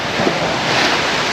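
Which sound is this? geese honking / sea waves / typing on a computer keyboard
sea waves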